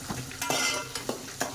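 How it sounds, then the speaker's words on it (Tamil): A sardine fish curry mixture gets stirred in a pan, with a few scraping strokes over a soft sizzle, close by and moderately quiet. "எல்லாம் மிக்சிங் பண்ணிக்கோங்க."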